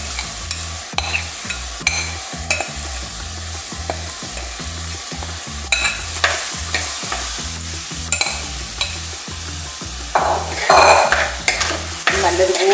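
Crab roast masala being stirred in a frying pan: steady scraping strokes of a spoon through thick masala under a continuous close sizzle, with brighter clatter near the end.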